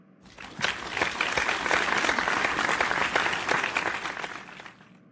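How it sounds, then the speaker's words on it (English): A crowd of spectators at a live show applauds to welcome the next act, steady dense clapping rising quickly and holding for about five seconds before tapering off. "Give a round of applause for our next act."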